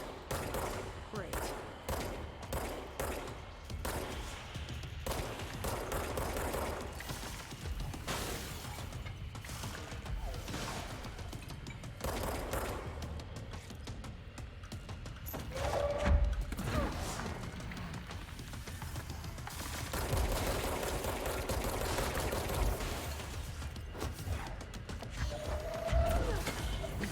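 Gunfire in the video game Control comes in dense, rapid bursts amid mechanical clatter and thuds, a continuous loud combat din with no voices.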